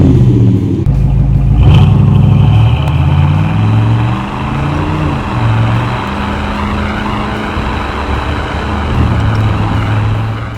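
A 1990 Chevy 454 SS pickup with its big V8 roars loudly up close, rising and falling through several revs with a deep rumble and shifting exhaust tones over about ten seconds.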